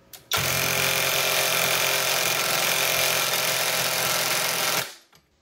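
A cordless impact wrench on its highest setting drives a regular deep impact socket against a nut on a Honda V6 during timing belt work. It gives one loud, continuous hammering burst of about four and a half seconds, then stops abruptly.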